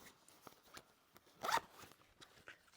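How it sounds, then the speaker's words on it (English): Zipper on a sewn tote bag being handled, with scattered small clicks and rustles and one louder, longer zip pull in the middle. "And it doesn't matter which way the zipper's gone, unless your print is super directional."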